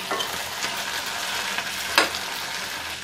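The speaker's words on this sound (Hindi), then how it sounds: "इन सबको अच्छे से मिक्स कर लेंगे" Spices with mango powder are stirred and roasted in a pan for bhindi masala, giving a soft, steady sizzle with repeated light scraping strokes and a sharper scrape near the end; no one talks.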